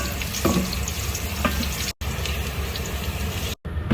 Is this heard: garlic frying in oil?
yes